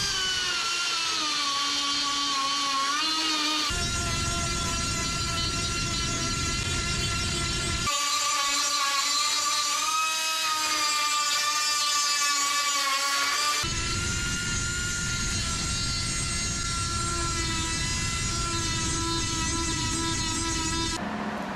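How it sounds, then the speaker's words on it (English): A power reamer bit grinds and files back metal on a Datsun welding project, a steady high-pitched whine with strong harmonics that cuts in and out in several long sustained runs, loud and close with no talk. "we'll switch on over to the reamer bit and kind of file it right back to that line"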